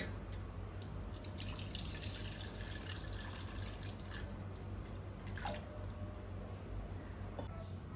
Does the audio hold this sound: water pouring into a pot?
yes